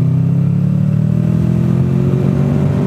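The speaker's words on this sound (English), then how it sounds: "This is a fun road on a sport bike." A sport motorcycle cruising along a winding country road, its engine droning steadily and loud up close, with a continuous low rumble and rising pitch as it accelerates and no pauses throughout.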